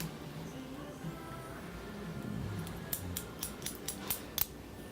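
Scissors snip hair during a layered haircut on dry hair, a quick run of close, crisp cuts in the second half after a muffled stretch of handling.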